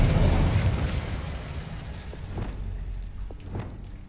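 Spell impacts in Hogwarts Legacy, Incendio and Expelliarmus cast in combat: a loud bursting blast at the start fading into rumbling, followed by a few sharper pops and whooshes, with no talking.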